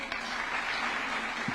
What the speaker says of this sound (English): Another round of applause for Team Captain Julius Yego.